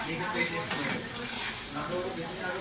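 Spices sautéing in a pan, with a steady sizzle and hiss under soft scraping and clinking of a spoon as the mixture is stirred, close and continuous.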